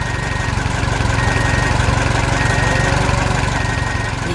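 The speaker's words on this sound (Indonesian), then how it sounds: "Traktor besar membawa trailer penuh pohon." A tractor pulling a trailer full of trees runs loud and close, a steady rough chugging drone with no pauses.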